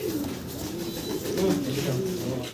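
Pigeons coo at a pigeon market in soft, overlapping low calls, with quiet background chatter from people nearby.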